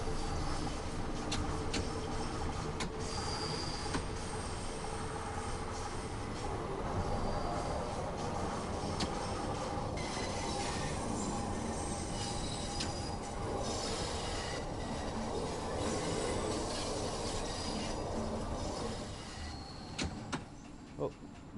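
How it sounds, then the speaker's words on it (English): A train rumbles past in Train Sim World 2, with a steady, continuous roar and faint wheel squeals that ease off near the end, while someone talks over it. "Oh, another train."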